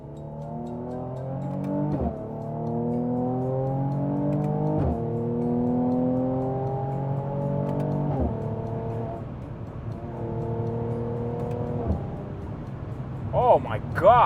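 A Mercedes C43 engine accelerating hard through the gears, each rising rev climb broken by a quick shift into the next, loud and steady from inside the car, with a voice briefly near the end.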